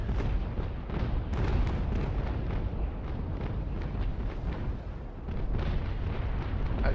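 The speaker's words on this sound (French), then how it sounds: "franchement c'était une belle explosion" Cannon fire and explosions in the naval battle game Naval Action rumble continuously with dense booms and bursts, loud and heavy throughout, with no talk.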